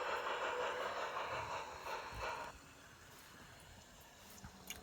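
A train rolls along in the video game OFF, a broad, steady rumbling hiss that is loud for the first half and then drops to a quieter, even wash of noise, with no voices.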